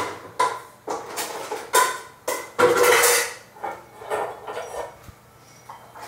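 Dishes, pots and cutlery being washed at home, irregular clinks and clatters of ceramic and metal close by, with scraping and knocks at uneven intervals.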